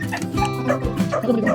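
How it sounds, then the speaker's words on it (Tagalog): A dog barks and yips in short bursts around a backyard vegetable garden, loud and close, mixed with a person talking nearby. "Kaya naman yung aso na yun, napakaingay talaga."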